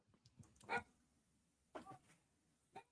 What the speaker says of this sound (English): You got the damn dogs barking